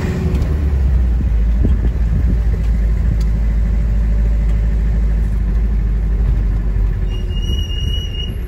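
A truck engine idles nearby with a loud, steady low rumble that holds unchanged throughout, with no voices.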